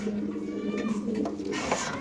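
Large pigeons at a market coo steadily at close range for a couple of seconds, a low murmuring drone with faint crowd noise behind it.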